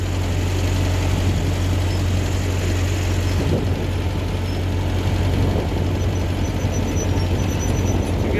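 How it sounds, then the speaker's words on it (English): Heavy equipment pushing topsoil and loading a dumpster makes a steady, dense low engine drone with broadband rumble, continuous and fairly loud throughout, with no voices. "Pushing some dirt and loading a dumpster."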